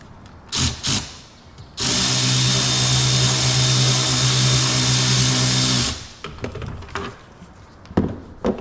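Power tool whirs steadily for about four seconds, tightening the clamps on the aFe Momentum GT intake couplers of a RAM TRX, with short clicks and handling noises before and after.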